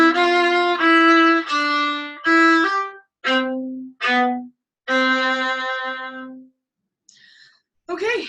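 A viola plays the closing fragment of Minuet 3, a handful of separate bowed notes, some held and some short, ending in a longer sustained tone, close and clear, followed by a brief voice.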